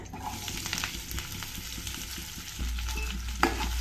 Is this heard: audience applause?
no